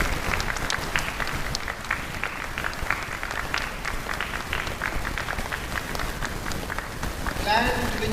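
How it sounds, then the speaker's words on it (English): A large audience claps at a university inaugural ceremony, sustained dense applause with sharp individual claps standing out, steady throughout, with a brief voice or sound entering near the end. "I request the audience to please join with us with a big round of applause."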